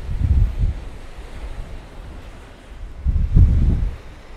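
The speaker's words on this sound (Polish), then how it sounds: "wieje każdego dnia potwornie, chyba w każdym miejscu" Strong gusts of wind buffet the microphone on a black-sand beach on Lanzarote, with surf rumbling beneath; two loud blustery bursts frame a calmer middle stretch.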